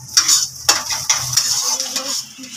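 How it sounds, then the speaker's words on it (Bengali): A spoon scrapes and stirs scrambled egg bhujia frying in a pan, rhythmic metallic scraping strokes over a steady close sizzle, with no one speaking. "এখানে ডিমের ভুজিয়াটা করে নিই, চাউমিনের মতনই করবো"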